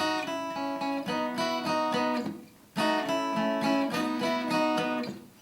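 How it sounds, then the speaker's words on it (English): Acoustic guitar in open G tuning strummed loosely and a little messily, ringing chords in a steady rhythm across two phrases with a brief gap in between, close and alone. "So even if you sort of are a wee bit more messy with it and it sounds something like this"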